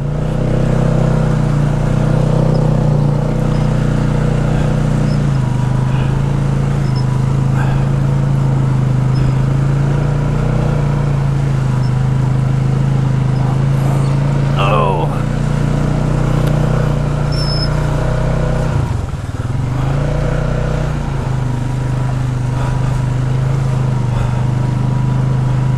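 A motor vehicle driving through a creek, its engine droning loud and steady at close range for the whole stretch, with a brief rise and dip in pitch near the middle and water churning underneath.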